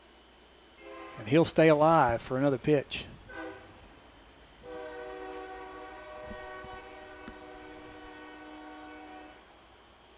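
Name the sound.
train passing with horn near baseball field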